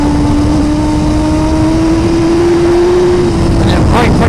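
Suzuki GSX-R1000R motorcycle (2017) pulling hard under throttle, a loud steady engine tone climbing slowly in pitch over constant wind rush, with no talk.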